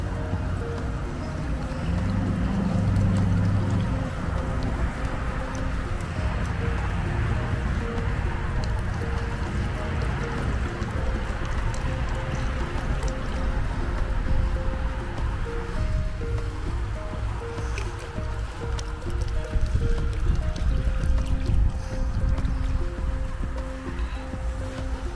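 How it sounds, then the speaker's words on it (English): Muriatic acid trickles slowly from a container held a couple of inches above swimming pool water, a steady close splashing wash of liquid with a faint hum beneath, no talking. "I'm pouring within like maybe about 2 inches away from the water to prevent splash"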